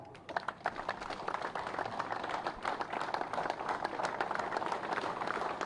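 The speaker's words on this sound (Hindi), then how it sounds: "ताली बजती रहनी चाहिए।" A crowd claps steadily at an outdoor election rally in Jammu and Kashmir, a dense, continuous patter of many hands at moderate loudness that runs without pause.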